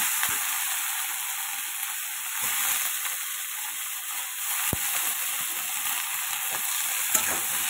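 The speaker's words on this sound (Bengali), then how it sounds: "এবার এটাকে একটু ভালো করে আগে ভেজে নেবো" Eggplant, potato and green chili fry in a pan with a steady, close sizzle and hiss that holds for the whole stretch, broken by a few soft stirring scrapes and no talking.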